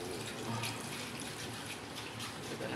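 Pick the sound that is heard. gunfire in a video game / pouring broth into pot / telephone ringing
pouring broth into pot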